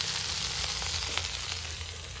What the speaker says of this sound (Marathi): आता पनीर मानसीने तव्यावरती सोडलं आहे